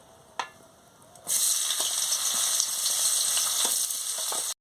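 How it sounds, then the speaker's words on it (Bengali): Chopped onion dropped into hot oil in a pan where fish was just fried, a quiet start with a single clank, then a sudden loud, steady sizzle with small crackles until it stops. "এটা গরম হয়ে গেছে, এবার আমি পেঁয়াজ কুচিটা দিয়ে দিচ্ছি"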